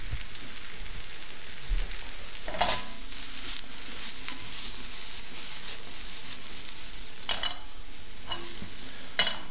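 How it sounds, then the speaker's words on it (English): Mushrooms and shallots sizzle steadily in a pan, a constant close frying hiss with a few brief stirring scrapes and clatters. "the point of this is we want to caramelize the mushrooms"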